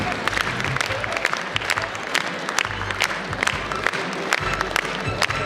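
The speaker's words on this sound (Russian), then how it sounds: "Давайте мы бурные поддержим аплодисменты" Audience applause at a Bashkir State University Student Spring gala concert, steady dense clapping from a hall crowd throughout, with crisp individual claps standing out.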